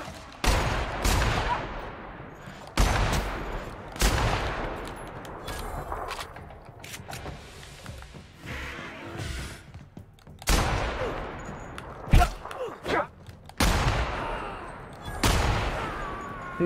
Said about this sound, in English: The bullet literally whizzes straight past their heads.